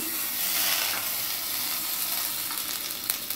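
Butter melting and sizzling in a hot kadai while pepper chicken is being cooked, a steady close frying hiss with light stirring throughout.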